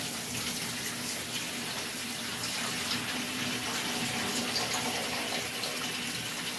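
Steady rush of cold tap water running continuously into a sink in a kitchen, a constant splashing hiss with no talking.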